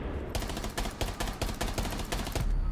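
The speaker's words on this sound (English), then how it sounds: "Ah, I was shooting in the smoke." Automatic weapon in a first-person shooter match fires a fast burst of loud, close shots, roughly a dozen sharp cracks in quick succession, after a brief quieter lead-in, with no voices.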